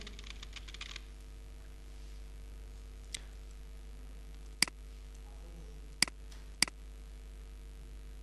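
A few sparse keystrokes on a computer keyboard while typing in Microsoft Word: a brief quick cluster at first, then isolated sharp clicks spaced seconds apart over a low steady hum.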